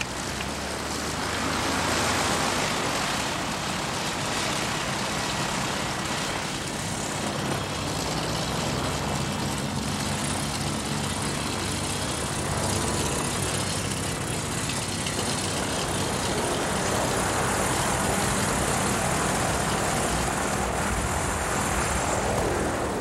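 Engines of the Goodyear blimp Columbia, a 1986-era airship, run in reverse while landing, a loud, steady propeller and engine roar that fills the whole stretch without letting up.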